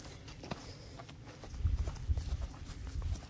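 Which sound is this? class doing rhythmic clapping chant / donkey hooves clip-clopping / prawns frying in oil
donkey hooves clip-clopping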